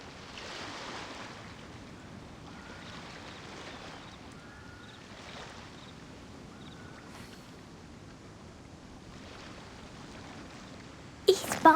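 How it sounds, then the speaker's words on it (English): Calm ocean waves wash steadily in Genshin Impact, a soft continuous surf with light wind, ending in a brief louder burst of sound. "The waves are as calm as always."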